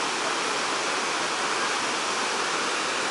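Iguazu waterfall roaring as a steady, dense wash of falling water, constant and unbroken, heard alone with no voices.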